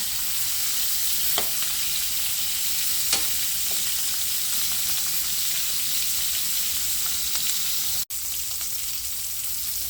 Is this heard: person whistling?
no